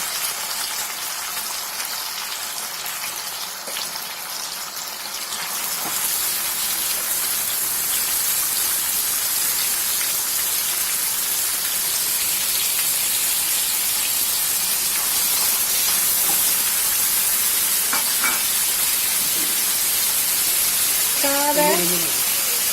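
Marinated mutton for a Kerala-style nadan mutton roast hits a hot pan and breaks into a loud, steady sizzle. The hiss jumps up sharply a few seconds in and holds dense and close to the end, with a voice speaking faintly over it.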